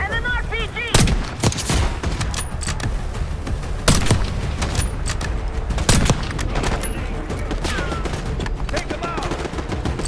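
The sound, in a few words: sniper and RPG gunfire, Call of Duty Black Ops 6 video game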